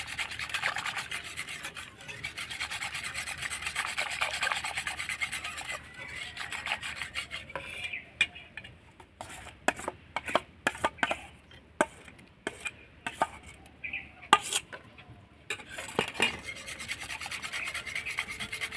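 Ripe mango pulp is stirred into milk for mango yogurt, with a steady soft rasping scrape that later gives way to irregular sharp knocks of a utensil against the bowl, and no talking.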